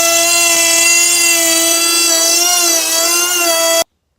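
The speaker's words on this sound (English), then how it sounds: "Just run that router down." A wood router runs steadily along a classic Chevy, Ford or Dodge truck bed floor board, a loud high whine holding nearly four seconds before cutting off abruptly.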